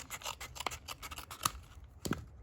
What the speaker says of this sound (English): So I'm just gonna cut this piece off here.